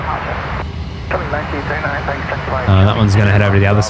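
A Jetstar airliner moving on the ground at Brisbane Airport, its engine hum low and steady beneath someone talking, then swelling into a stronger, louder tone near the end.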